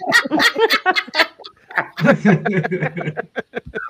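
A dog barks and yips in short bursts close by, mixed with people talking and laughing over a live call.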